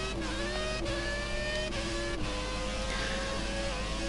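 An onboard F1 car in F1 2017 screams at high revs and shifts up through its gears in quick succession, each change a sharp drop in pitch, loud and close with no voices.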